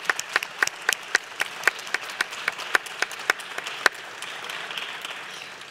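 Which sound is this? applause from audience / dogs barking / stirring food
applause from audience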